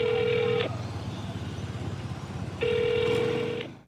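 Telephone ringback tone on an unanswered call to a locked, permanently closed tutoring center: two long, steady electronic ring tones separated by a pause, heard over faint low background hum.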